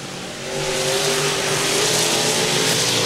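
Race cars roar past on a dirt oval at a Memorial Day show of street stocks, B-mods and late models, a loud, continuous engine drone swelling as the pack goes by.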